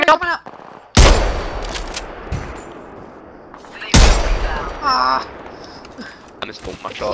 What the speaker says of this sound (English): I'm gonna shoot these dumb fucks.